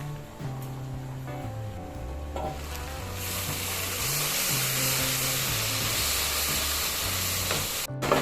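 Steady, loud sizzle of onions frying in a pan fills the clip, a broad hiss that builds after a few seconds, with a tonal melody playing underneath.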